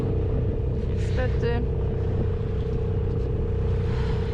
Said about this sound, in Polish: I musimy płynąć na silniku po jeziorze